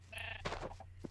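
A sheep bleats in a video game, a short, faint, wavering cry over a steady low hum, with a brief extra chirp at the end.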